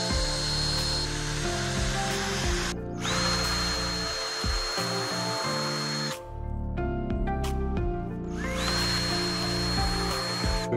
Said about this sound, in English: We got our holes drilled, we got our cup holder mounted